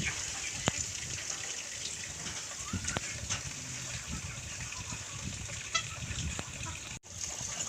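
Water gushes steadily from an outdoor faucet on a farm, a constant splashing rush with occasional sharper drips and splatters, fairly faint and continuous.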